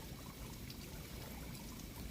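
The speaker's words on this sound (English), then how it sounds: "See, they got a little waterfall there." A small indoor waterfall in a fern room of a Chicago building gives a faint, continuous splash and trickle that fills the whole stretch without a break.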